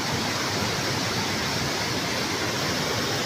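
River water swirling into a drain as a whirlpool after flooding, a loud, continuous, even rush of water with no breaks, filling the scene with broadband hiss.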